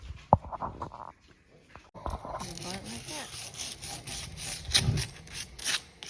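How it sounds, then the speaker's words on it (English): Steady rhythmic rasping of wet sanding on bare metal before a clear coat, close up, with scattered knocks and a brief voice in the background. "working on this thing, getting it wet sanded"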